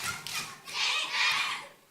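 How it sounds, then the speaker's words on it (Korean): A group of children at a church Sunday school claps together in a couple of short, loud bursts of rapid clapping in a room, with no voices over it. "집중해 박수!"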